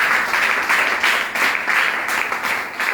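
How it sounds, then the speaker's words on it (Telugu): An audience at a fasting prayer meeting in Ramavaram claps together, producing dense, loud, continuous applause that swells in a few waves across the whole moment. "అందరూ ఒకసారి చప్పట్లు"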